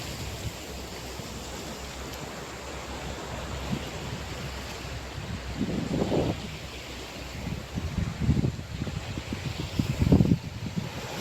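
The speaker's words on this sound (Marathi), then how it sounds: "आपण आहे इथे आता गणेशगुहेच्या समुद्रकिनारी" Sea waves and wind at the Ganeshgule seashore: a steady rushing roar with a few louder swells breaking near the end. No voices.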